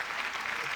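Brief burst of audience applause at a live comedy show, a dense wash of clapping lasting under a second.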